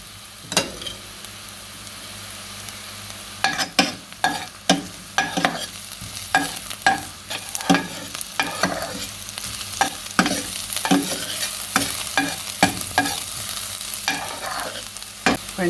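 Garlic and hot pepper frying in a pan for Trini-style curry mango, a continuous sizzle punctuated by many sharp, irregular scraping and tapping strokes of a utensil stirring close by, with no talking.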